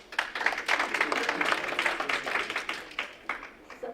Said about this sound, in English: So please keep the applause down, you guys